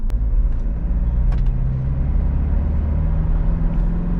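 A Toyota Fortuner SUV accelerates hard at full throttle, its engine a loud, steady drone with a low rumble that holds throughout, heard from inside the cabin with no talking.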